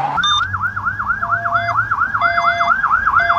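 Toy ambulance siren wailing in a steady rapid up-and-down cycle, loud and close, with electronic beeps layered over it and no talking.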